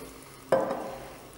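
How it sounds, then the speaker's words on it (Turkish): A colour-changing chemistry solution is stirred in a container, a single sudden scrape or clink followed by a brief swirling rustle that fades within a second, faint and alone in a quiet room. "Şimdi bunları güzelce karıştıralım."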